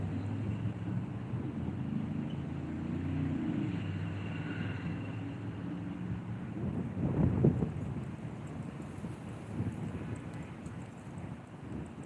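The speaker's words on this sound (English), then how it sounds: "Here come that wind, boy." Wind blows outdoors, buffeting the microphone in a low, steady rumble that swells and gusts louder partway through, with no talking.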